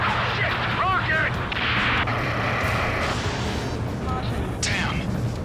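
A rocket explodes during combat in the flight game Ace Combat 7, a heavy blast rumbling amid constant battle noise, jet roar and radio chatter, while voices talk over the action.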